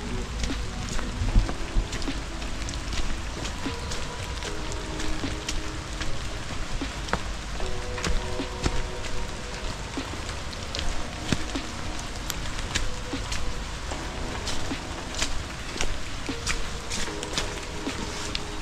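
Rain falls steadily on a trail near Nine Arches Bridge in Ella, Sri Lanka, a dense continuous patter of drops with faint rustling, unbroken for the whole stretch.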